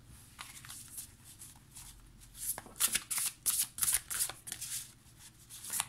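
Tarot cards being shuffled by hand, a soft papery riffling that builds into a run of brisk, close shuffling bursts, with no talking.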